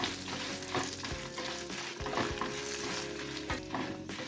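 Turmeric, asafoetida and byadgi chillies frying in a pan for a mango chutney, a continuous close sizzle broken by several sharp scraping stirs of a spoon against the pan, with no talking.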